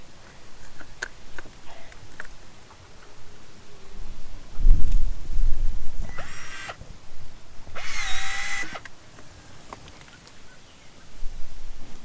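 A PPR plastic water pipe is cut on a house-building site, with two short loud bursts of a power tool grinding through it amid quieter handling noises and outdoor birdsong.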